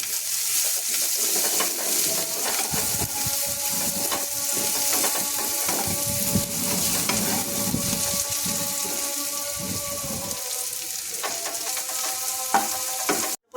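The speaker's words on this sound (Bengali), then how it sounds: "পেঁয়াজটাকে আমরা লাল লাল করে ভেজে নেব" Chopped onions sizzle continuously in a hot pan, frying until reddish-brown, close up, with occasional scrapes of stirring.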